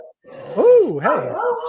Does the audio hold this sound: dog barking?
yes